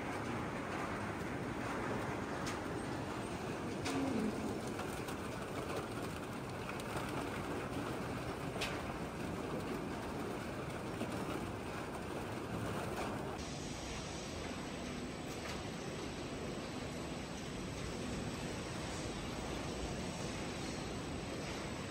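A PET plastic bottle recycling line runs at a steady, loud industrial roar, a continuous broadband machine drone with rumbling conveyors and a faint high whine, unchanged throughout with no talking.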